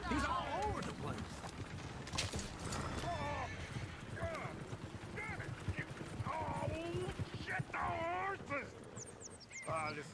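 Horse hooves clip-clop continuously in Red Dead Redemption 2, mixed with whinnies, game dialogue and background music throughout.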